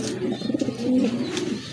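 Domestic pigeons at a pigeon farm coo in soft, throaty, repeated rolls that pulse and swell, close and clear with no talking.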